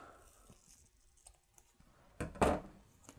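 A piece of super-sticky double-sided banner tape being cut: soft clicks and rustles, then one loud crisp snip-and-tear burst near the end, close and alone.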